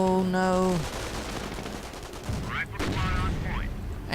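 Gunfire and mortar blasts from a World War II strategy game sound as a dense, rumbling barrage. Bursts and booms stay loud and steady, with tonal game sounds and voice-like cues mixed over them.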